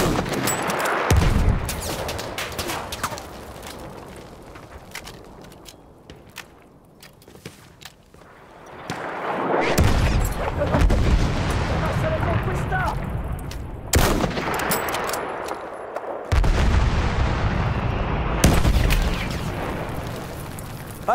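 Bursts of gunfire and heavy artillery booms in a Battlefield video game come in waves, with rapid shots and loud blasts separated by quieter stretches of battlefield noise.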